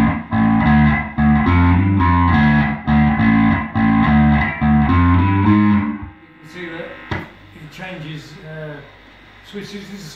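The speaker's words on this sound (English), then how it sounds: "Switches the distortion on and off." A distorted electric guitar churns out loud, gritty chords for several seconds, then cuts to a much quieter, thinner sound with a voice speaking as a distortion pedal is switched off.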